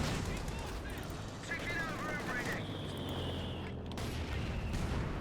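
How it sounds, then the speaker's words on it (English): Machine gun fire in a WWII strategy game as a Cromwell tank engages an MG position, dense gunfire and battle noise running continuously under a commentator's voice. "Cromwell trying to make quick work of that MG."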